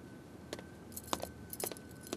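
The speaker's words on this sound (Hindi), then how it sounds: "गाड़ी की चाबी ले आई रहनी है।" Car keys jangle in a few short bright bursts at close range, separate shakes spread across a couple of seconds in a quiet room, with no talking.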